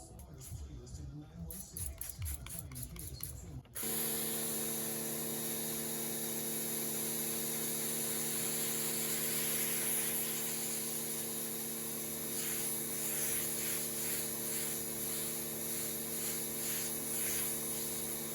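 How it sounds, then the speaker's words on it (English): A steady, broadband hiss of a spray sealant applied to a car's exterior, running continuously, close and fairly loud, after a brief moment of faint handling noise at the start. "I'm going to apply a spray sealant."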